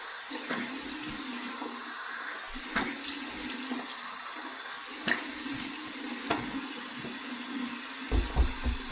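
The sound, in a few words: cold water rinse from the tap after shaving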